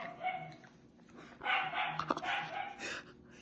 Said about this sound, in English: that crazy dog is just very distracting